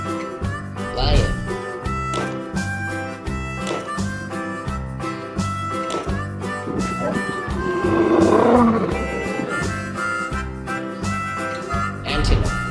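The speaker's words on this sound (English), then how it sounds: "Lion." A lion's roar rises over a busy music track, loud and sustained for a couple of seconds midway, set among toy wild animal sounds for kids.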